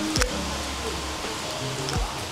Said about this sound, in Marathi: पाऊस आलाय आता दमभर पाऊस आलाय